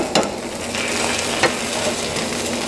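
Scrambled eggs sizzle softly in a pan as a utensil pulls and stirs the curds, with a steady low frying hiss and a couple of brief scraping strokes.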